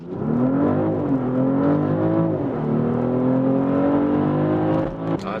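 A BMW X5 xDrive 50e accelerates hard to 100 km/h in sport mode, its engine a loud, steady drone rising in pitch through gear changes, heard from inside the cabin.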